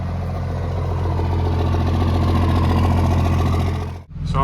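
A 1998–2002 Dodge Cummins diesel engine idles steadily after new injectors were fitted, a loud, even low rumble that holds for about four seconds before cutting out abruptly.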